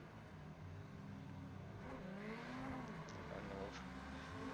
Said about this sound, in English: Looks like Sebastian is going to be doing some burnout victory burnouts in the background